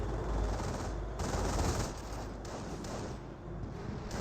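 A 30 cal machine gun placement fires sustained, steady bursts in a Company of Heroes World War II battle, a dense mid-distance rattle heard alone with no talk.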